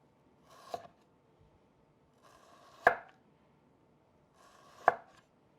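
Three separate knife strokes slice raw chicken into thin pieces on a cutting board, each a short crisp cut with a pause between, quiet and close in an otherwise silent room.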